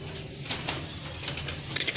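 Pigeons coo softly and repeatedly at close range, low throaty calls layered over a steady background hum.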